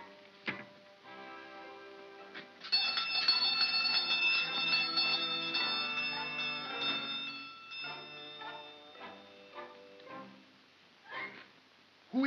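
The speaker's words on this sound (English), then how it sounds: "Ring the bell." A door bell chimes at a house in a 1934 film scene, giving a sustained ringing, bell-like tone after a sharp knock, fading slowly and followed by faint knocks.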